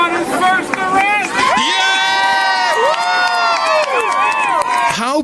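A crowd cheering and shouting at an arrest, loud and continuous for about five seconds, with high whoops and many overlapping voices in a dense, close roar.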